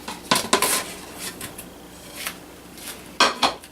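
Italian sausage browning in olive oil in a pot for Tuscan tortellini soup, with a utensil clanking against the pot in several short bursts at close range.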